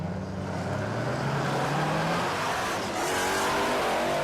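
A no-prep drag race car, a blown build on big rims, idles and eases down the track at a live drag racing event; a steady loud engine drone with a faint rising pitch, no talk.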